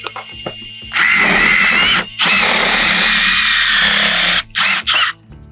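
Power drill widening a hole in wood with a bit that is too small, several loud whining bursts of a second or more separated by short pauses, ending in two quick blips, close up.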